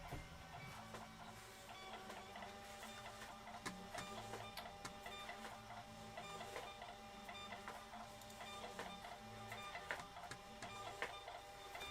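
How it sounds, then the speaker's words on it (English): A Rollo thermal label printer runs loudly and continuously, with a repeating mechanical whir and rhythmic clatter during a late-night sports trading card case break. "Sorry, the Rolo printer's pretty loud."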